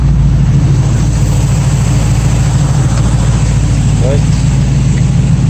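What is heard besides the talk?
1965 Ford Mustang engine idling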